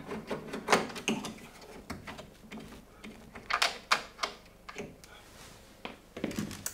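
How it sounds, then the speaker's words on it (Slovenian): Screws are worked loose by hand on the back of a tumble dryer during a temperature sensor replacement: irregular close clicks, taps and rattles of metal and panel, with bursts of handling noise spread throughout. "Zdaj bomo pa šraufali na zadnji strani."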